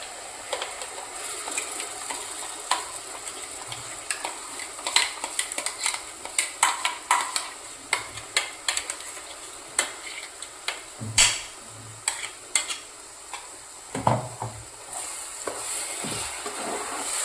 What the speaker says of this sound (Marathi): मसाल्याला चांगलं फ्राय होऊ द्यायचं आहे